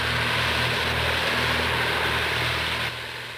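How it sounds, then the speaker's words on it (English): A tractor cutting grass in a field, its steady droning engine hum running loud and close throughout, then dropping abruptly in level near the end. "From safe vantage points, the cubs watch the tractor's progress with interest."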